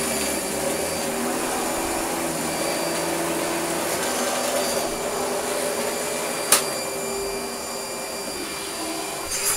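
A Hitachi CV-50D upright vacuum cleaner runs steadily with strong suction, a loud continuous whine and roar throughout, with one sharp click partway through.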